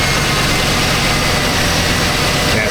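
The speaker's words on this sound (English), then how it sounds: "Bump it off and idle one more time watching the fuel trim." A Chevy 2500HD pickup truck with an unusual running problem idles close by, giving a loud, steady, rumbling engine drone with no break throughout.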